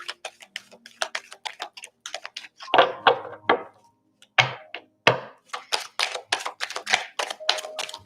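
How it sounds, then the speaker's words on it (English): Tarot cards being shuffled, a quick irregular run of crisp, close-up flicks and taps that bunch into denser riffles in places, with no voices. "1 last shuffle, and then I'll pull it from the top."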